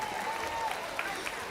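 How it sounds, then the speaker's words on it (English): Applause at a high school graduation ceremony, a moderate wash of clapping from a seated crowd that sounds somewhat distant and continues evenly throughout. "Let's give Dwayne another round of applause."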